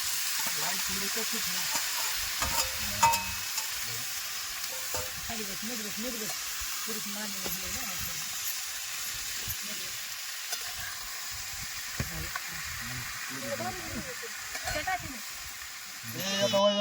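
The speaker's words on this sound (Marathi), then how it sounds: "आता आपण टमाट्याची चटणी बनवणार आहे मस्त एक जीव तळून घेऊ" Onion and tomato chutney with salt and spice mix frying in a pan, a constant sizzle with intermittent scraping stirs, while a person talks over it at times.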